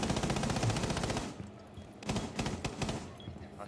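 Rapid automatic gunfire in the Rainbow Six Siege video game, a loud continuous burst that cuts off, followed by several sharper scattered shots and thuds.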